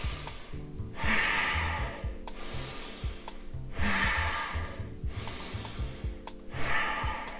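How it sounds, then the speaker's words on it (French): Three slow, deep breaths drawn in through the nose, each a loud, close, rushing inhale followed by a quieter exhale, evenly spaced a few seconds apart. "faire 3 respirations profondes"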